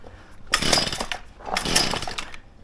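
A small petrol leaf blower engine is pulled and fires briefly twice with choke on, two close, loud bursts of sputtering engine noise separated by a short pause.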